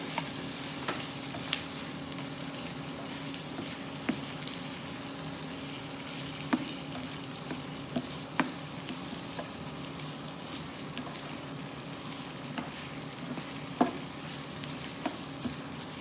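Bottle gourd pieces fry and sizzle in a pan with Pakistani masala, a soft continuous crackle broken by a few sharp scrapes and knocks of a spoon stirring.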